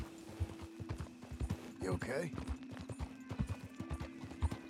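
Horse hooves clip-clop in a steady walking rhythm, close by, with a brief whinny partway through and a voice speaking softly over it.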